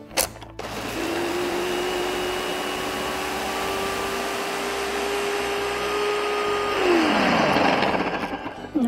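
A blender purees garlic paste with basil, its motor roaring loudly and steadily, then winding down in pitch near the end.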